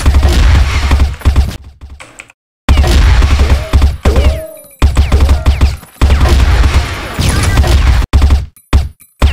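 Loud, rapid bursts of automatic gunfire from a shooter video game, several volleys separated by brief silent gaps, with sharp impacts and whooshing effects between them.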